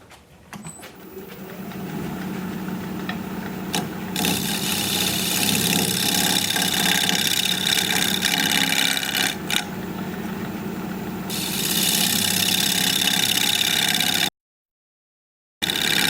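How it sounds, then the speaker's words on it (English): Shear scraping under a pink dogwood winged bowl with natural edges on a wood lathe: a continuous motor drone with a hissing scrape of the tool, broken by a short silent gap near the end. "I'm going to try and do some shear scraping under here"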